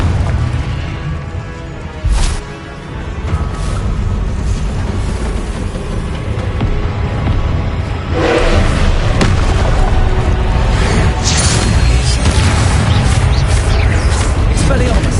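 Spell blasts from the Confringo explosive charm in Hogwarts Legacy, heavy booming bursts over loud continuous game action and music, with several impacts clustered in the second half.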